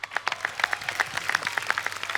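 Audience clapping on a Hindi TV comedy show set as a guest is welcomed, distinct close claps in a quick irregular rhythm with a few louder individual hands standing out.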